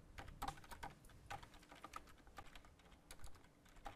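Code is typed on a computer keyboard, a quick irregular patter of soft key clicks with occasional firmer taps, close and quiet with no talk.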